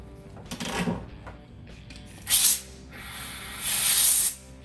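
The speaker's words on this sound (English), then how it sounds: "So at this point, you want to air up the inner tube." Air pump inflating an electric fat-tire bike inner tube during a flat repair, heard as two or three separate hissing bursts of air, the last one longer, fairly close with a quiet background between them.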